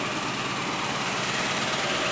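1989 GMC Sierra fire department rescue truck with a 350 V8 idling, a steady low engine hum close by with no talk over it.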